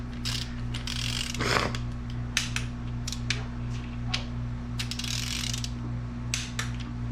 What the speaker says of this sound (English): I'm going to run them up evenly first until they snug. And I'll do my torquing.